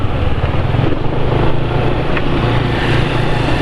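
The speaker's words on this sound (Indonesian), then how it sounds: "Ya jadi kayak begini ya suara motornya." A motorcycle engine idles loud and close, its low steady rumble constant throughout with a faint rattle above it. No voices are heard.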